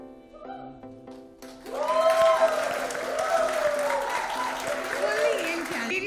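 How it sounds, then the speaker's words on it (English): A crowd at a film trailer launch event bursts into applause after a few seconds, a dense, sustained clapping that fills the room, with music playing underneath. "Prachi Desai, Sahil Ved, Vakar Sheikh, huge round of applause for them."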